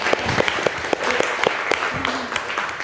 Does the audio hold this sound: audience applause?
yes